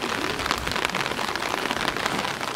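Steady rain pattering on a surface, a dense hiss of drops, close and continuous.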